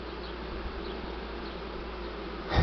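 Honey bees buzz around a hive being split to make a new colony, a steady, close swarm drone with individual bees passing near, ending in a brief louder rustle, no speech.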